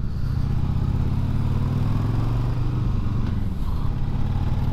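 A motorcycle's exhaust drones steadily and loudly while riding at night, a continuous low engine rumble with slight pitch shifts as the speed changes, with no voices.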